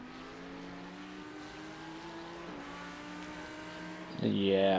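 GT3 race car in iRacing held at full throttle: a steady, droning engine note that shifts pitch with one gear change, then a rising surge with brighter whine at the end. Someone talks faintly beneath it.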